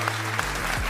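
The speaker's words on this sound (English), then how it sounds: "We got a crowd. You can hear them." A live crowd at a speed chess championship in Paris applauds in steady, continuous clapping that fills the brief moment without talk.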